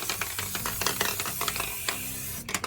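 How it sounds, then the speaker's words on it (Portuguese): Aerosol acrylic varnish sprayed onto both sides of an artificial leaf, heard as close, uneven bursts of hissing spray with small clicks and knocks between passes. "Eu vou passar esse verniz aqui em spray e vou passar dos dois lados da folha."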